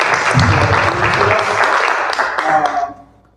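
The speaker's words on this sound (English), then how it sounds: "a round of applause for Mr." Audience applause at an educational achievement seminar, a dense wash of clapping from a crowd thanking a guest, steady and loud for about three seconds before it tapers off quickly near the end.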